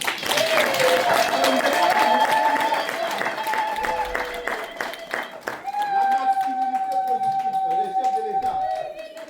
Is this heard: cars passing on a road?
no